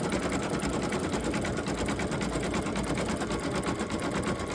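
An embroidery machine stitching a small 4x4 in-the-hoop snowman design, running with a steady, rapid mechanical needle rhythm at close range, alone and unbroken.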